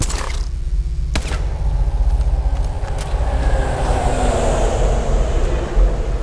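A train roars past in a futuristic first-person shooter game, a loud, steady rumbling wash with a sharp metallic clank near the start, building slightly as it goes.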